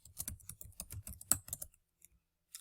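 Quick, close keystrokes on a computer keyboard, a short burst of about a dozen clicks followed by a pause and one last tap.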